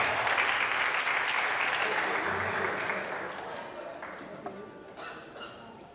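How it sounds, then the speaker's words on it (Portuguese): A church audience applauds at a worship gathering, dense steady clapping that holds loud at first and then tapers off, with scattered claps lingering near the end. "Pode aplaudir, aplaude aí,"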